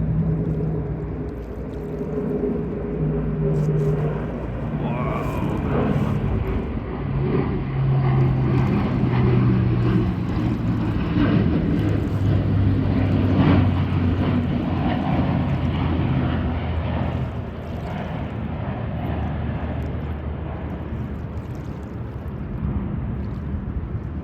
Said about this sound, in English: It's the same plane from earlier.